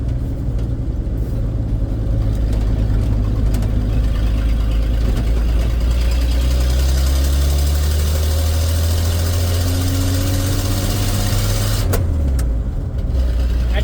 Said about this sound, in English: when you rev it, oh yeah, that's a cracked exhaust manifold